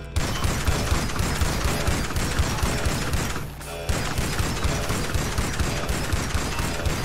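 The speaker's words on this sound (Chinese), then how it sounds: "有听到枪声很远吗？ 我听到是枪声很近啊" Gunfire in the video game GTA V: loud, rapid, evenly spaced shots keep going throughout, broken by one brief pause near the middle.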